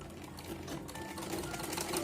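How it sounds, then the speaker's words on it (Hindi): A sewing machine stitching the leg seam of a ladies' salwar, a continuous close whirring chatter of rapid needle strokes running steadily from start to finish. "चलिए एक पैर का सिलाई लगाते हैं"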